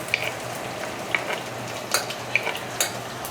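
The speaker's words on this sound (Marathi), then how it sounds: "त्यानंतर लगेचच मी यात घालून घेणार आहे लसूण." Garlic hits hot oil in a pan with a soft steady sizzle, punctuated by a few sharp clinks of a spoon stirring against the metal.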